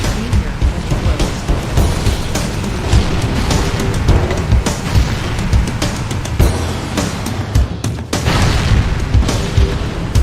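Fusion drive engines detonating in Halo Combat Evolved, a loud, continuous rumbling blast with repeated booming bursts and crackling debris filling the whole stretch.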